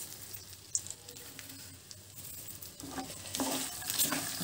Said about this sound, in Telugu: లో ఫ్లేమ్లోనే వేయించుకోవాలి మాడకుండా